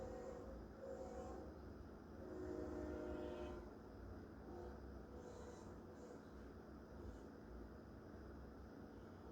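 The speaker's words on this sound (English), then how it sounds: "Ooh, there's a train in Folkestone." CSX train IO32 rolling on a crossover track in Folkestone, a faint, distant low rumble with occasional tonal horn-like notes, steady and continuous throughout.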